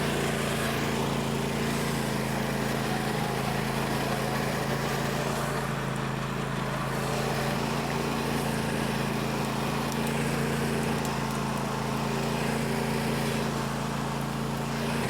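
A DeWalt chainsaw cuts through tree wood during tree work, a steady loud engine drone holding an even pitch for the whole stretch with no pauses.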